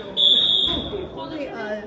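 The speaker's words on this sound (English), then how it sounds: "I will insert the video of when the fire alarm was going off" A building fire alarm sounds during a power outage: a loud, steady high-pitched electronic tone holds for about half a second before cutting off, followed by a fainter whine, with talking underneath.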